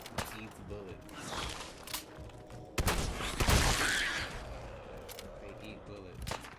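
Gunfire in Fallout 4: a series of sharp shots at irregular intervals, with a louder, denser burst around the middle, set against steady game noise and some voices.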